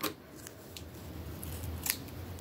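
Scissors cutting a short length of crochet yarn, with a few faint crisp snips close by over a quiet room hiss, no talking.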